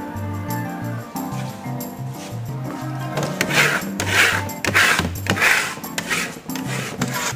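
A steel trowel rubs and burnishes Venetian plaster on a wall in repeated rasping strokes, rhythmic and close, growing brighter and harsher in the second half.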